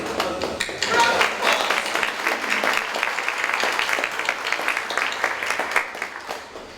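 A modest audience at a book event claps, individual claps audible in a loose, uneven patter that swells then thins out over several seconds, with speech nearby.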